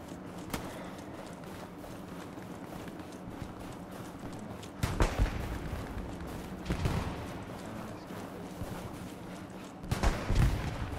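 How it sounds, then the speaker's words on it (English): Distant artillery fire in the World War II shooter Hell Let Loose, with several heavy booms landing every few seconds over a steady low battlefield rumble. "just the artillery going off"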